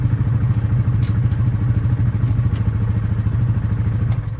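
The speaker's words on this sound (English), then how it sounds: "she hears Johnny's ATV coming back" A mid-pitched ATV engine drones steadily and fairly close at a campsite, with a pulsing rumble and a few light clanks over the top.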